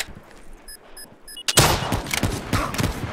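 Sniper rifle fire in the video game Black Ops 3, a string of loud, rapid shots and blasts starting suddenly partway through after a few quiet interface beeps, dense and continuous to the end.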